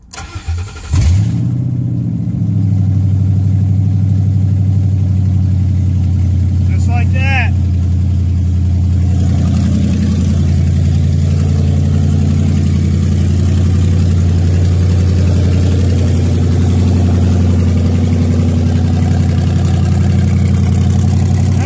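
Car engine cranks briefly, catches and settles into a loud, steady rumbling idle in a shop, the low drone holding close and constant throughout.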